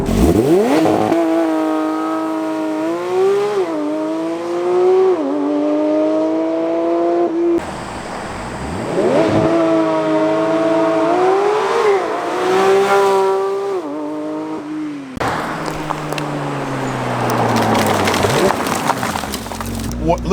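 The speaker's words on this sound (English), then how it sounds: "Look how good this launch control, wow." A Porsche GT3 RS engine revs hard and climbs through gears repeatedly, rising pitch with each upshift, loud and close, as the car accelerates away in three successive launch-control launches.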